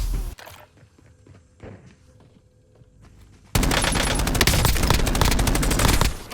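Gunfire in the video game Warzone: a few scattered thuds and shots, then a sudden sustained burst of loud rapid automatic fire filling the last few seconds, with no speech.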